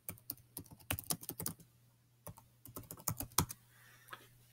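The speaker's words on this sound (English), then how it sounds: "I type in the subject." Someone types an email subject line on a computer keyboard: quick, crisp key clicks come in two bursts separated by a short pause, close and clear, with a faint steady hum underneath and no talking.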